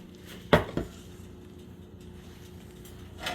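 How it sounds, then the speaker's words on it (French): A metal saucepan is lifted off a kitchen stove: two sharp, close clanks of cookware in quick succession, then only faint room hum. "On va retirer maintenant notre casserole du feu."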